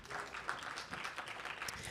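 Audience applause for a movie theater's projectionist: a dense, steady wash of many hands clapping at once, fairly faint and continuous for the full two seconds, with no talking over it.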